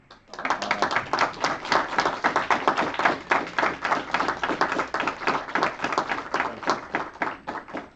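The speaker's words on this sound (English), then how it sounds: "Can we have one applause for the city, please?" A student gathering in Karlstad, Sweden claps for the city, a smaller group of distinct, rhythmic hand claps, close and fairly loud, keeping a steady pulse across the whole stretch.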